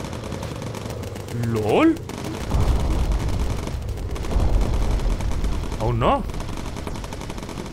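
Machine-gun fire from a bomber in the Bomber Crew video game rattles in sustained bursts, while people talk excitedly over it.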